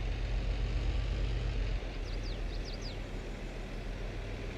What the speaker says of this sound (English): we're rocking the Lamborghini. It's an okay little tractor.